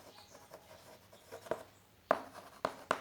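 Chalk striking and scraping a board during a Hindi class 10 chemistry lesson, with a few faint strokes followed by several crisp, louder taps spaced about half a second apart, close by, with no one talking.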